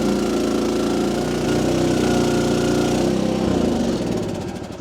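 A Crytec CREX6-M mini excavator engine runs steadily and loudly up close, a low mechanical drone with a rattly edge, its note shifting slightly as the machine works and then tapering off toward the end.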